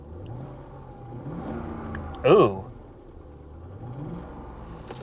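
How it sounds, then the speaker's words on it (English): A Mazda B3000 pickup with a check engine light on, at an auction lot, gives one sharp rev that rises and falls back to a low idle rumble, while someone talks briefly over it. "I'm going to rev it up real quick."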